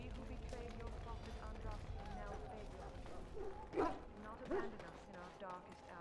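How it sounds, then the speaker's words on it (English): Dogs bark in Dragon Age: Origins, a couple of sharp barks rising over a dense game soundscape with low rumbling and talk. "I must get the hounds ready for battle. Half the dogs are sick from Darkspawn blood."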